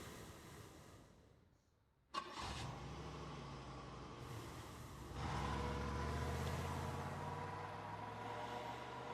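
A car engine cranks to life with a sudden sharp start after near silence, then settles into a steady low idle that swells louder midway as it revs, close and continuous.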